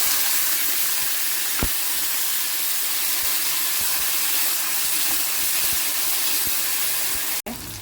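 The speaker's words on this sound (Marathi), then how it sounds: "आता मी कांदा फ्राय झाला" Chopped onion fries in hot oil with mustard seeds and curry leaves, a loud steady sizzle with occasional sharp ticks and pops, close up, ending with a sudden cut.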